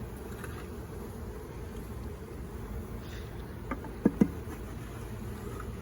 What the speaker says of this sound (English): Now I'm worried the bees all around over here, Tillman.